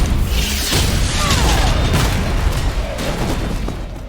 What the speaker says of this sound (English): the explosion knocked the other guy too